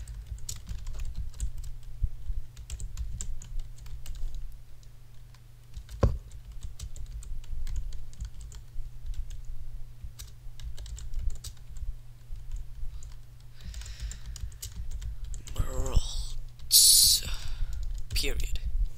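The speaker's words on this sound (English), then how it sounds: "I cannot type today." Typing on a computer keyboard, a steady patter of close, crisp key clicks running throughout, with a brief sigh-like breath and a few louder sounds near the end.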